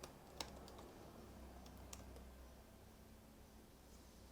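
Typing on a computer keyboard: faint, scattered key clicks over a steady hiss of background noise, with a couple of sharper taps near the start and middle, no one speaking.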